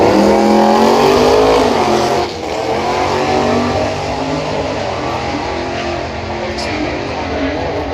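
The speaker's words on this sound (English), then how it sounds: "Come on, Con, we want to see this car go all the way to the finish line on the full power." A Ford Falcon XY drag racing car accelerates hard down the strip at a street meet, its loud engine roar climbing in pitch up close, then fading into a steadier, more distant drone after about two seconds.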